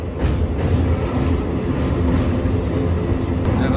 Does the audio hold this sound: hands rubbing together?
no